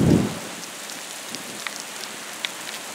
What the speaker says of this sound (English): Boy, we sure get hit with the rain today, huh?